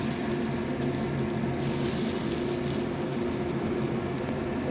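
Chicken pakoras fry in hot oil with a dense, even hiss that holds close and loud throughout, with no voices over it.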